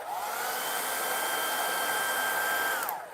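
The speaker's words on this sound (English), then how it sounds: "And then I will take my blow dryer." A hair dryer blows steadily at close range to dry watercolor paint on a paper Christmas ornament of bourbon bottles, a loud, even whine lasting about three seconds before it cuts off.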